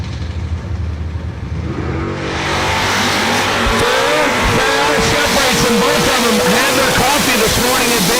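Fox-body Mustang drag cars, including a 1985 four-eyed Mustang, launch off the starting line: loud engine roar swelling into hard, rising revs with tire squeal, close and continuous, then pulsing as the cars pull away.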